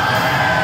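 A crowd at the Red Stick Wrestling Con in Louisiana roars and yells in a brief, loud, sustained burst of cheering.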